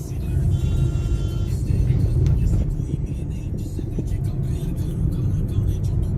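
Hyundai i20 Sportz petrol hatchback cruising on a highway, its steady low road and engine rumble continuous and close throughout, with a faint voice now and then beneath it.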